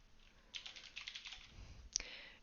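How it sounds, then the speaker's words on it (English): Keys on a computer keyboard clack in a quick burst of light, close taps, a brief pause, then one sharper click followed by a few more presses of shift and backslash, with no voices. "you have to hit shift and then backslash"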